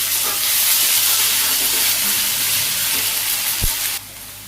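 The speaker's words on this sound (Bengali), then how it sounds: "পেঁয়াজ কুচি ভাজি হয়ে গেছে, আমি এই যে এটা বেটে রাখছিলাম" Chopped onion and ground paste frying in a pan, a loud, close, continuous hissing sizzle that holds steady with a brief knock near the end before it drops off suddenly.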